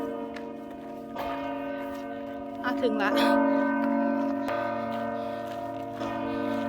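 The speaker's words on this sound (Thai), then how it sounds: "ระฆังจะตีบอกนาฬิกานะคะ ทุกๆชั่วโมงนะคะ" A church bell strikes the hour in Arbon, Switzerland, with deep, resonant strikes that hang in the air, and a voice briefly speaks between the tolls.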